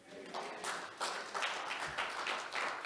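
During a church service, a congregation gives a hand clap of praise: faint, blended clapping from many people, steady and diffuse, with a few louder surges.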